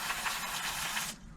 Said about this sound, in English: Handy dandy spray here.